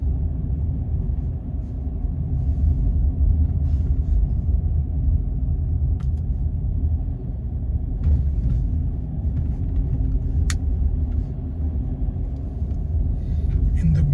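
A car drives along a road during a driving test route in Chadderton, heard from inside as a continuous low rumble of engine and tyres, with a few faint clicks over it.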